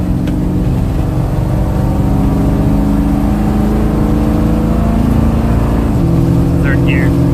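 A 1987 Dodge W150 truck fitted with longtube headers pulls through first, second and third gears, its loud, steady engine drone rising in pitch and then dropping at each shift. The engine stays close and continuous throughout.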